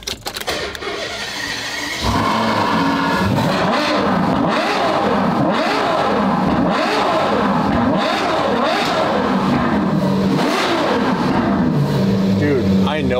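A Lamborghini Huracan engine with straight pipes bursts to life and revs repeatedly, loud, raspy and close, the pitch climbing and dropping in quick pulls.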